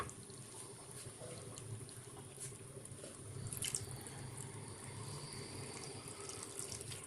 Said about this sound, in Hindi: इसके साथ ही इसके अंदर मैं ऐड करूंगी पानी।